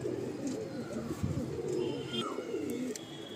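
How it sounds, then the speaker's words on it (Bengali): Male pigeon cooing in a loft: soft, low, rolling coos repeat through the clip, close by, over steady background noise with faint higher chirps. "এটা হলো মেল পায়রা, নর"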